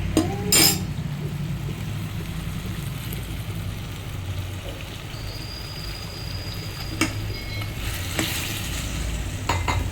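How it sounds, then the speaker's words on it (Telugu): Chicken pieces with salt and turmeric are stirred in a hot pan for a chicken curry, a continuous close sizzle with occasional clinks of a utensil against the pan and no talking. "చికెన్ వేసుకున్నాక ఏదో లైట్గా సాల్ట్ అలాగే పసుపు మొత్తాన్ని మిక్స్ చేసేసుకుందాం"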